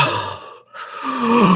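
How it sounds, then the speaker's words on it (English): A single sharp intake of breath, a short gasp heard up close after a brief sigh-like exhale, alone with no talking. "follows up with a gasp of his own"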